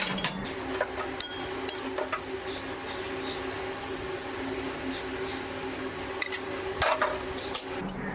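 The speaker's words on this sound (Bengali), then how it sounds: "আবার বাকিটা আর একটা থালায় ঢেলে দিলাম" Roasted oats are poured from a pan onto a metal plate, producing a dense scattered rattle with scattered clinks and scrapes of metal, close and continuous over several seconds.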